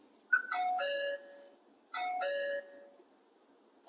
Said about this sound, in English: So just let us ring the doorbell and see what happens.